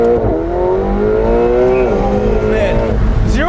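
McLaren 720S Spider accelerating hard, its engine note climbing loud and close through rising gear pulls over a few seconds, with a brief drop between shifts.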